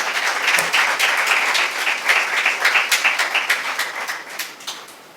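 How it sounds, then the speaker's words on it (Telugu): A church congregation claps together during a Telugu Christian sermon, giving a loud, sustained round of applause that thins into scattered, uneven claps toward the end, with no voices over it. "చప్పట్లు కొట্టండి ఒకసారి"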